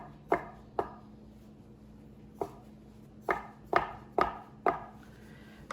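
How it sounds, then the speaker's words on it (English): A dough scraper or knife cuts a rolled cylinder of gnocchi dough into portions: about seven sharp, separate knocks against the board at an uneven pace, close by and alone over a low steady hum. "you'll take your dough scraper or a knife and cut it into"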